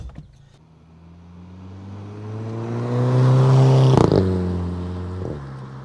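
A Volkswagen Eos 2.0 TSI drones steadily while driving, its subtle exhaust giving harmonic tones, rising to a louder rev around the middle before easing off; no talking.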